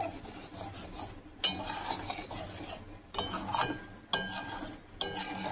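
Curdled milk from powdered milk for malai sandesh is stirred in a pan as it dries, giving a steady close raspy scraping of a spatula across the metal in long repeated strokes.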